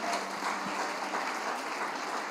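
A church congregation at a celebration service applauds, a short burst of steady, dense clapping at moderate volume with no voices over it.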